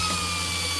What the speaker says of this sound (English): Air drills through the tank.